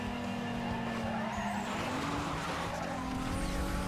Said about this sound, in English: We've got a slide.